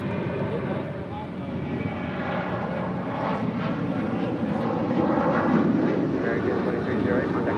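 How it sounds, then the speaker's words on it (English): An American Airlines Boeing 737-800 departs LAX, its engines a steady, broad rumble that swells slightly toward the end, with talk faintly underneath. "That is American 2308 departing to Raleigh, Durham on a 737-800"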